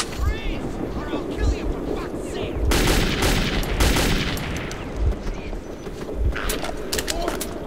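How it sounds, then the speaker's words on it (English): Gunfire in the video game Metro 2033, with bursts of shots and impacts over wind-like noise and a dense game soundscape, loud and close from about the third second onward and continuing in clusters. "What fucking random moron is shooting me from what fucking random place?"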